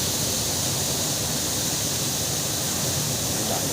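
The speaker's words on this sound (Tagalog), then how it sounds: "Napakaganda ng falls." A waterfall roars in a constant, loud, even rush of falling water that fills the whole clip without a break, with no voices heard.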